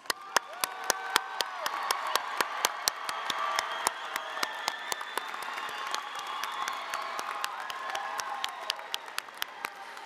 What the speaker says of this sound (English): Now let's applaud and congratulate our 2018 graduates